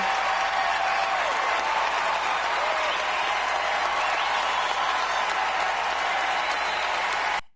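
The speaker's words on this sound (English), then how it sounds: "Everybody cheering and clapping for this" A crowd applauds steadily, dense clapping mixed with cheering that holds at an even level, then cuts off abruptly.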